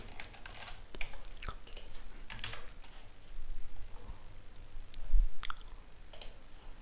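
Computer mouse and keyboard clicks while working in bridge design software, a scattered series of close, light taps and clicks at irregular intervals over a quiet room background.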